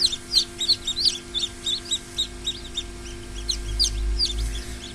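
Newly hatched chicks in an incubator peep in rapid, repeated high chirps, a dense chorus of tiny calls close by over a steady low hum.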